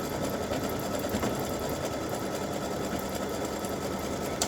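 A sewing machine runs steadily and continuously up close, stitching a Christmas bow directly onto a T-shirt along the side seam, with a constant mechanical whir throughout.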